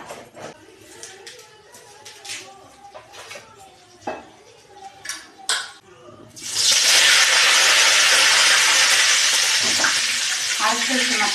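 Mustard seeds hit hot oil while cooking a meal maker gravy, bursting into a loud, sustained sizzling hiss after a few scattered utensil clinks and taps.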